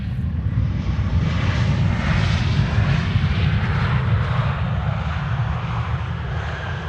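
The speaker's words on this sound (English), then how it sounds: "no, not an Embraer 190, it's an A320" Airbus A320 airliner jet engines, a steady broadband roar that rises and fades gently over several seconds with no other sounds.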